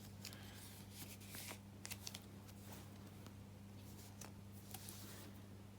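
Photocards are handled, shuffled and slotted into a binder, giving quiet scattered papery clicks and slides over a steady low electrical hum, with no talking.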